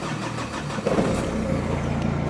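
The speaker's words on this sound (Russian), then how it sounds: "выжать сцепление и завести и нажать кнопку старта" A Renault Megane 2 is started with its start button, the starter cranking briefly before the mid-pitched engine catches and settles into a steady idle, close up with no talking.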